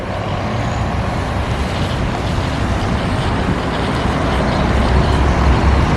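A USC shuttle bus drives past near a rental car facility, a loud, broad engine and road roar holding steady for several seconds, slightly swelling toward the end.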